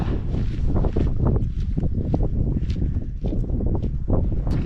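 Wind buffets the microphone steadily on an exposed mountain ridge hike along the Dragon's Back, a loud, continuous broadband rush with gusty swells and no clear voice.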